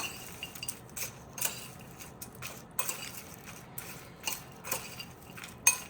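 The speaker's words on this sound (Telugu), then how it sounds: "Cucumber tomato. మిక్స్ చేసుకోండి." Cucumber and tomato salad tossed in a bowl for an oil-free healthy snack: soft, close clinks and scrapes of a utensil against the dish in an irregular stirring rhythm, with no talking.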